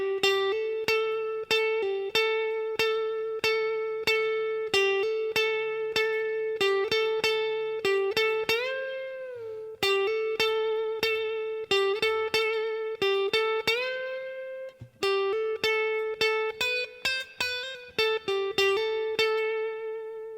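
An electric guitar with effects plays a solo in full, a long run of picked notes with steady attacks and a few bent, wavering passages, moderately loud and alone.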